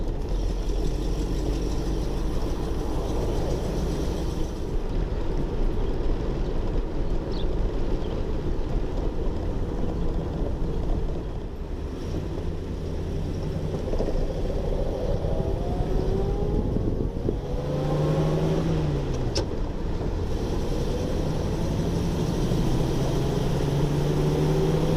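Quiet, steady engine hum from a 1934 Ford V8 Deluxe Roadster while driving, a low continuous drone with road and wind noise and a faint rise in pitch around the middle, no talking.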